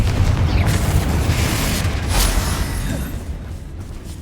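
A heavy booming explosion from the Confrigo blasting spell in Hogwarts Legacy, a loud low blast that rumbles and slowly fades over several seconds, with no talking.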